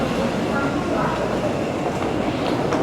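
An MRT airport metro train in Taiwan runs at speed, a close, continuous rumbling roar of wheels and carriage with faint clatter throughout.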